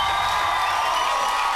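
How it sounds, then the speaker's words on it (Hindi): Loud applause from a television comedy show's studio audience, a dense, steady wash of clapping with some crowd cheering, sustained throughout without a break. "जोरदार तालियां"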